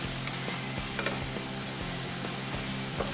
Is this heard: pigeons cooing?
no